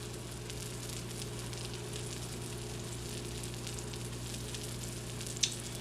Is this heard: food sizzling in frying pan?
yes